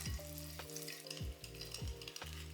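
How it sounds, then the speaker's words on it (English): Cake batter with milk and vanilla is mixed in quiet, rhythmic strokes, with a few scraping passes of the utensil through the bowl at a steady pace. "let's mix all of that until combined and you don't see any clumps"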